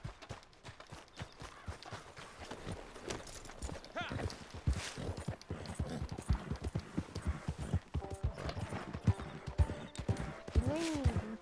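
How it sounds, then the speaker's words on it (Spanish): Horse hooves clip-clopping in the Red Dead Redemption 2 video game, a dense run of close hoofbeats throughout, with a rising whinny near the end and a voice talking over it. "Vuelve aquí, caballo de mierda."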